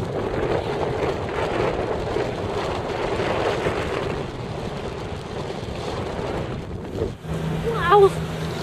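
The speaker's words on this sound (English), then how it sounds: "It's pretty windy." Wind buffets the microphone in a continuous rushing roar over open water while parasailing, with a brief voice near the end.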